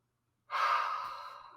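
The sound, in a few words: yawning during a voice warmup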